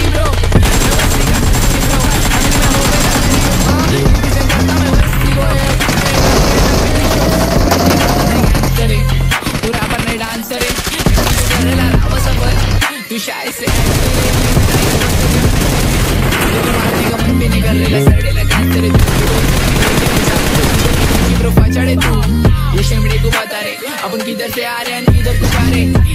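Video game gunfire crackles in rapid bursts and sustained automatic volleys, loud and repeated, with brief pauses between, mixed under heavy music throughout.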